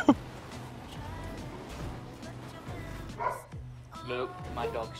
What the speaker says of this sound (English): Look, my dog's barking.